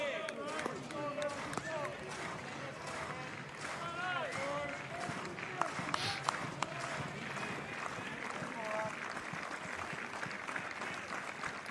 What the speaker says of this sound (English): Crowd making a little noise